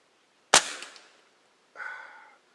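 A 2240 Carbine pellet gun fires once with a sharp, close crack at a pop can, followed about a second later by a softer metallic clink of the pellet striking the can.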